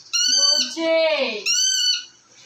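Pet birds call loudly and close by in strong harmonic squawks and cries, with one long wavering call between two shorter bursts.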